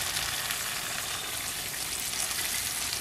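Chicken pieces sautéing in a pan for Bengali chicken kosha: a continuous, even sizzle and crackle of frying, steady and moderately close, with no voices.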